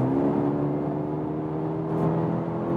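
A Mercedes GLB 35 AMG four-cylinder SUV engine accelerating, humming steadily at a constant, fairly loud level with a smooth tonal whir, close and continuous, no voices.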